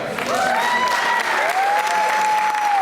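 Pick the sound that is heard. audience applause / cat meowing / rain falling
audience applause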